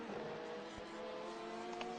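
Race car engines drone steadily in the iRacing sim at Sebring during a 12-hour endurance race, a sustained harmonic whine with another car running alongside, even and moderately loud with no talk.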